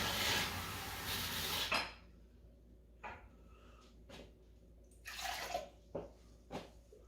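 Water poured from a mug into a clay jebena coffee pot, a short rushing pour close by, then quiet clinks and small drips and a second brief splash of pouring.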